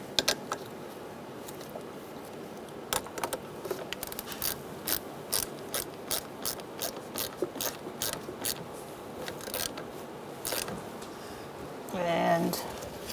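A ratchet wrench turns a 10 mm socket to tighten the negative battery terminal on a 2010-2013 Kia Soul 2.0L, giving rapid bursts of close, crisp clicking, with a brief metallic rattle near the end.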